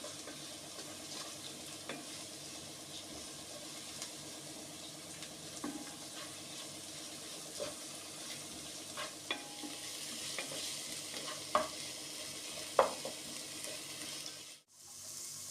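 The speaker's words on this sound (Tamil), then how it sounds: "கருவேப்பிலை, அப்புறம் 2 பச்சை மிளகாய், ரெண்டையும் போட்டு நல்லா கிண்டி விட்டுக்கலாம்." Steady frying sizzle with a spoon scraping and stirring curry leaves and green chilies in a pan, occasional clinks and taps, no talking.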